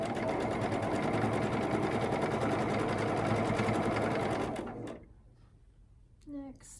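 Sewing machine running steadily as quilt block pieces are stitched together, a loud continuous whir for about five seconds that stops abruptly, followed by quiet handling sounds and a brief voice.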